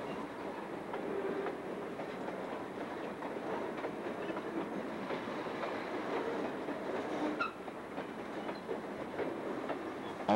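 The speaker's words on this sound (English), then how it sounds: "We see the entire train as it begins its journey." A train carrying 50 long rail lengths stacked on racks begins moving, with steady rumbling and clickety-clack of wheels, a few sharp clanks and faint squeals, heard at a moderate distance without talk.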